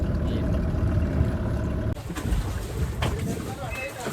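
A speed boat runs on open water near Yanam, its steady engine and hull rumble broken by a brief change partway through, with wind buffeting the microphone and people talking over it.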